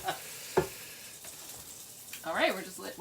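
A chicken leg fries in hot oil with a steady background sizzle, some louder crackles and spits rising now and then, and no one talking over it.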